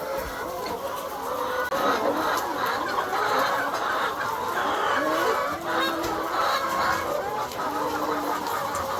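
Several chickens cluck and murmur continuously nearby, with occasional louder squawks over a busy farmyard background.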